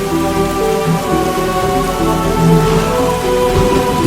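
Heavy rain pours steadily in a windy storm, a loud, continuous wash of drops beating on surfaces, with a faint low rumble beneath, no talking.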